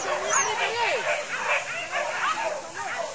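Hunting dogs yip and bark in a steady chorus during a wild boar hunt at Muaro Kalaban, high whining yelps overlapping through the whole stretch at moderate distance with outdoor background.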